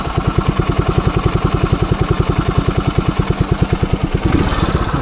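A 1978 Suzuki DR370 motorcycle engine idles up close with a steady, fast thumping beat, shifting slightly in tone near the end; no voices.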